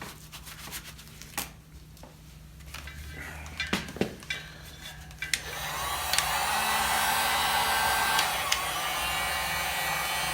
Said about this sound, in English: I'm actually going to use a heat gun on this too.